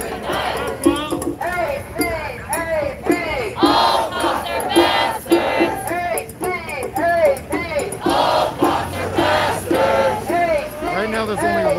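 Street protest crowd on Fairfax in Los Angeles cheers and shouts loudly, with repeated whoops and chanting voices rising and falling close by, mixed with babble and some traffic noise underneath.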